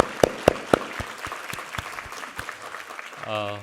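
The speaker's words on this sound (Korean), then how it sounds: "우리 하나님께 감사와 영광의 박수 올려드리겠습니다" Members of a congregation at a Korean Sunday worship service clap in a steady, evenly spaced rhythm, sharp individual claps ringing in a reverberant room, before a voice starts to speak at the end.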